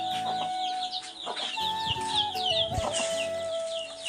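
Chickens on a rural farmyard in Manikganj, Bangladesh, clucking and chirping softly at moderate distance, overlapping short calls continuing steadily with no one talking.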